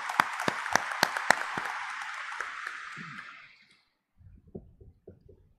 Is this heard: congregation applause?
yes